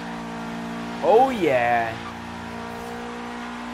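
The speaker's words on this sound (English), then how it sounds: "See if we can get some all-wheel drive donuts going on here on the pavement" An all-wheel-drive Subaru WRX rally build spins donuts on pavement in Forza Horizon 3, its engine droning steadily before a loud one-second rev and tire squeal swell up, then settles back to a hum while a man briefly exclaims.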